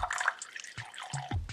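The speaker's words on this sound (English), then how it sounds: "Start here by pouring just a little bit of your indicator solution, but enough to blow through." A small amount of indicator solution is poured into a glass at home, giving a faint, brief liquid trickle with soft drips, quiet and close.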